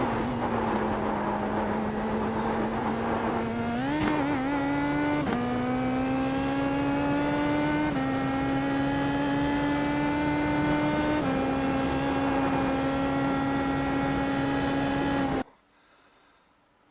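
A car engine holds a steady high drone under throttle on a Nordschleife lap, shifting pitch in small steps through several gear changes. It stays loud and continuous before cutting off abruptly near the end.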